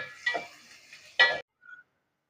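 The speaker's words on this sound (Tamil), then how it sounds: "வெங்காயம் நல்லா வதங்கட்டும்." Sliced onions with green chillies, curry leaves and salt frying in oil for a goat brain poriyal, heard as short bursts of sizzling and stirring separated by brief quiet gaps.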